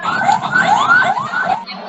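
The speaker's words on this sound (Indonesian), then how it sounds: "langsung datang ambulan ya" An ambulance siren sound effect plays loud and close, its rapid rising and falling wail repeating in quick sweeps for under two seconds before cutting off.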